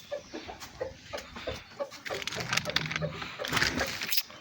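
A black rooster let out of its coop gives short, soft clucks in scattered bursts, close by and fairly quiet, mixed with rustling and handling noise.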